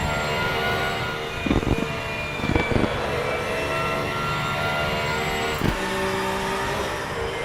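In-car engine of a race car in the RaceRoom racing game drones loudly and steadily, its revs rising and falling with a few sharp gear-shift cracks along the way.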